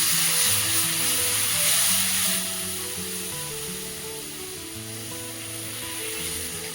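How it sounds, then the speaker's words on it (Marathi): Milk poured into sautéed dates for sheera sets off a loud sizzle that settles into a steady hiss, with faint clinks of stirring and background music. "आता हे परतून झालं की याच्यामध्ये आपण दूध टाकून घ्यायचं आहे"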